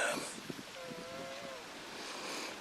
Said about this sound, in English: the wind's not too bad. It's picked up a little, but not too bad